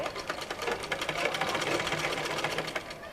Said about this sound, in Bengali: এখন আমি পুরা এই কাভারের কাপড়টাকে লম্বা করে সেলাই করে ফেলব